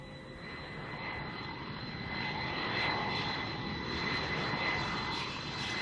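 Aircraft engine droning steadily during expedition flight tests for high-altitude flying over China, a continuous moderately faint hum with a sustained whine on top and no voices.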